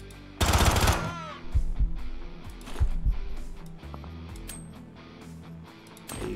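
Saw gun firing in the video game Quasimorph, a sharp loud burst at the start followed by several shorter mechanical shots and impacts, spaced irregularly.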